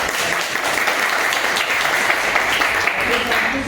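A college gathering gives a welcoming round of applause, a thick, continuous wash of many hands clapping at close range, with faint voices mixed underneath.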